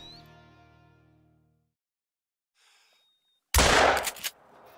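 A single loud 12-gauge shotgun slug blast fired at a whitetail deer in the hunting video game Call of the Wild. It breaks near-silence with a sharp crack and a short rumbling tail, after an earlier tone fades away.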